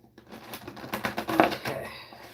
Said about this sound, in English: Let's give it a quick shuffle here